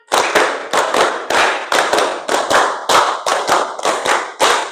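Steady rhythmic hand clapping from a group of students in a classroom, about a dozen sharp claps evenly spaced, loud and close with no talking.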